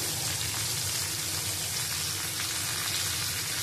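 Bitter gourd and other vegetables fry in a pan with a steady, close, broadband sizzle and crackle that stays even throughout, with no voices.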